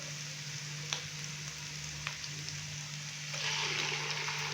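Boneless chicken frying with ginger garlic paste, with a quiet, even sizzle, occasional utensil taps and a low hum beneath, growing slightly louder toward the end.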